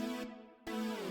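A bright, sustained EDM-style synthesizer lead in a pop production, loud and harmonically rich, briefly dropping out for a moment before returning with a gliding note, with no voices.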